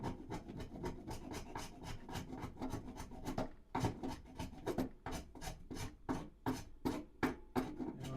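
A spokeshave shaves the wooden neck of an acoustic guitar, making close, crisp rasping strokes in a quick, regular rhythm, about twenty passes with short gaps between them.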